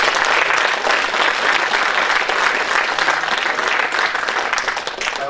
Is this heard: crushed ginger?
no